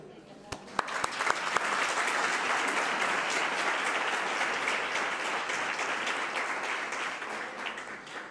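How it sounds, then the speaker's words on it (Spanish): Audience applause for Sebas at a church sermon gathering, a steady, dense wash of clapping from a full room that swells after a few sharp early claps and holds evenly to the end. "que le podamos dar un aplauso"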